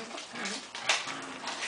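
A litter of puppies whimpers with thin, high cries, one sharper yelp standing out near the middle, close by over a soft background hiss.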